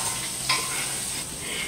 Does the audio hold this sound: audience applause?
no